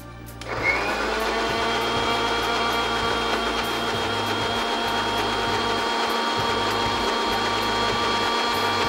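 A kitchen blender whirs loudly and steadily, blending two tablespoons of cooked boiled rice with coconut milk; the motor starts abruptly and runs without pause, with no talking.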